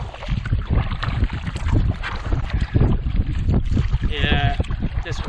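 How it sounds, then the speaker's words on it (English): Wind picks up on open water during a solo canoe camping trip, a loud, blustery rush buffeting the microphone continuously, with a person speaking over it. "Yeah, this wind is picking up again."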